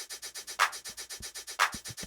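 Electronic hi-hat pattern programmed in Ableton for a future bass track, crisp evenly spaced ticks with two louder open accents, dry and static, with a few low thumps underneath.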